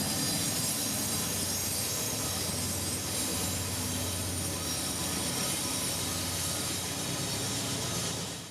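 A Norfolk Southern freight train rolls past on a main line in Kentucky, a loud continuous rumble and rattle of railcars that holds steady throughout with no voices.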